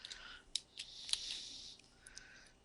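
Quiet, scattered clicks and taps from typing on a computer keyboard during a Unity game development session, coming in small irregular bursts with short pauses and no speech.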